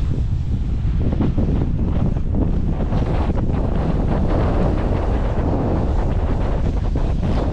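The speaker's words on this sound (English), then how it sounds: "when it's not windy like that" Strong wind roars steadily across the microphone on the beach at Caleta de Fuste in Fuerteventura, a loud, unbroken buffeting that buries any surf or other sound beneath it.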